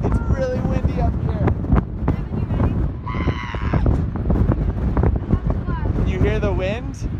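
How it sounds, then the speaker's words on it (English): Strong wind buffets the microphone with a constant low roar while people talk over it, high on a mountaintop. "It's really windy up here."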